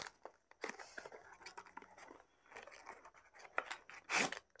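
Plastic packaging for a Hero Splendor Plus MK motorcycle clutch plate being opened up close, with a run of crinkling, tearing and snipping noises and a louder rustling burst near the end.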